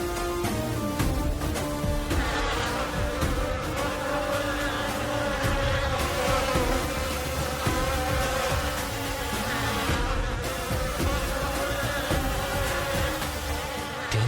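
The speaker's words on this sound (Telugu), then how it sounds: "పూజ గదిలోకి తేనెటీగలు వచ్చాయి." Bees swarming in a household prayer room make a dense, continuous loud buzz that stays close and steady throughout, with no voices.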